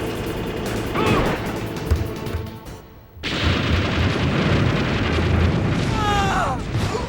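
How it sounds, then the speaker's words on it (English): A tank explodes in Metal Gear Solid, opening with rumbling game noise before a sudden heavy blast that sets off a loud, sustained roar of fire and debris continuing to the end. "blowing up the tank gunner also somehow manages to blow up the tank from the inside"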